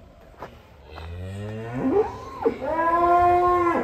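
A contest cow bellows in a long, rising moo that swells and dips, loud and close, followed by a second drawn-out, strong low call.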